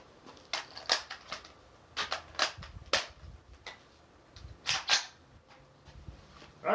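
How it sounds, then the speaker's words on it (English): An AR-15 rifle with a Bear Creek Arsenal M4-profile .223 Wylde barrel with 1:9 twist fires while being sighted in. Several sharp, separate shots crack at an uneven pace, sounding somewhat distant. "Alright, first shots."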